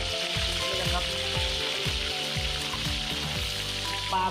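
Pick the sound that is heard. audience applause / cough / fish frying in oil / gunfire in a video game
fish frying in oil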